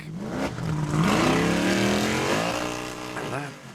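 A formula offroad buggy revs hard through deep mud at an Icelandic competition, its engine loud and close with rising and falling pitch sweeps, a commentator talking over it throughout.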